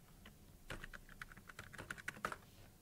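A password is typed on a computer keyboard, a quiet run of quick, irregular key clicks that speeds up into a denser burst toward the end.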